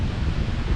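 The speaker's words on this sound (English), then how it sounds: "it's getting a bit windy. There's a storm coming in" Wind gusting outdoors at a campsite as a storm approaches, a dense low rumble against the microphone with rustling texture, continuous and fairly loud with no pauses.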